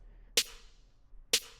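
A snappy, bright snare drum sample layer, soloed, hits twice about a second apart. Each is a sharp, whip-like crack with a short airy tail and silence between.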